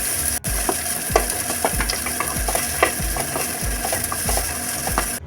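Lengthwise-sliced onion sautés in a pan under a steady sizzle, while a spoon scrapes and stirs in quick, regular strokes about twice a second, close and moderately loud.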